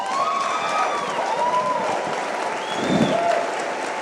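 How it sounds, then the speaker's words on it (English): A big round of applause from an audience at a network marketing talk, steady massed clapping throughout, with some cheering and whistle-like tones rising over it. "So give them all a big round of applause."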